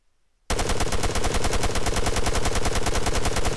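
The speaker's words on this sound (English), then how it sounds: "automatic fire mode should be used only in extremely close quarters situations because the recoil is quite massive" An MX 6.5 mm rifle in Arma 3 firing on full auto: after half a second of silence comes a rapid, evenly spaced burst of loud, close shots lasting about three seconds.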